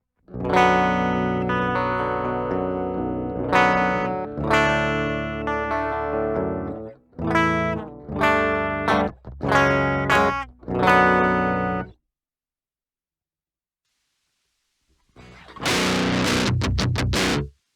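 Electric guitar played clean through a Flamma preamp pedal with the cabinet simulation off, straight into an audio interface: ringing, harmonically rich chords and notes in several phrases, a few seconds of silence, then a short bright strum.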